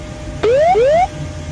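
Two rising whooping tones of a cockpit ground proximity terrain warning sound loud and close aboard Avianca flight 011, descending below 2,500 feet toward terrain.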